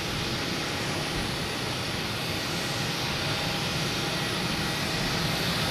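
A Virgin Atlantic airliner heads out toward Heathrow from Boston Logan, its jet engines producing a steady, broad, continuous roar at moderate distance.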